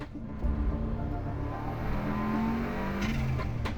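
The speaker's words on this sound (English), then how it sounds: "the sound of that EJ20 there's nothing else like it" Subaru EJ20 rally car engine revs at moderate distance, a steady burbling drone that rises slightly in pitch, then a couple of sharp clicks near the end.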